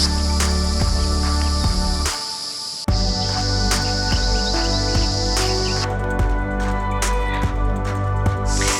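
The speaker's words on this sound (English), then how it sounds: "the cicadas are so loud through sections near the water" Loud, dense cicada chorus beside a lake in the Kimberley, Western Australia, a piercing high-pitched drone that holds steady throughout, briefly dropping out once before surging back at full volume.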